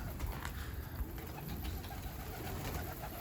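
Pigeons coo in soft, low, repeated calls close by, among the kept dönek tumbler pigeons of a Kara Galaca flock, with a faint engine hum in the background and no talking.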